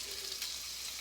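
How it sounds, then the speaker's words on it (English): Chunks of defrosted ground venison frying and browning in a hot pan, giving a steady, close crackling sizzle that runs without a break. "You can hear it starting to sizzle."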